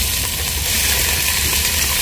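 Garlic and onion sizzle steadily in a hot pan, a continuous close broadband frying hiss with no talk over it.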